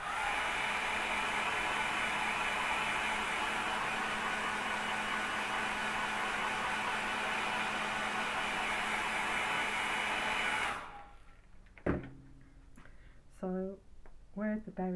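A hair dryer drying paint on a painting, a loud steady whooshing roar that runs for about ten seconds then cuts off, followed by brief quiet talk.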